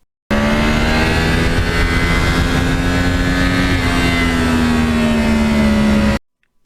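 Yamaha R1 crossplane motorcycle engine holding a steady, loud, rich exhaust drone with a slowly shifting pitch, close and continuous for about six seconds, then cutting off abruptly into silence.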